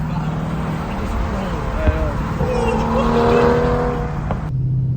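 Ford Mustang 5.0 with an H-pipe exhaust pulling hard, a steady loud engine roar that builds in pitch and intensity, close and continuous, then cuts off abruptly near the end.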